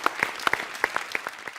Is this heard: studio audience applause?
yes